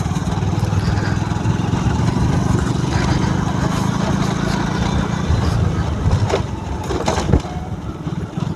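A Hero Honda Glamour 125cc motorcycle rides off-road, its engine a steady, loud, continuous drone throughout, with some bumps and rattles near the end and no talk.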